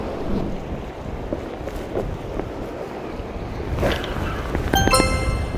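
Steady wind gusts across a microphone on a sea cliff at Udo while fishing, a continuous broadband rush with rising and falling swells and no talking.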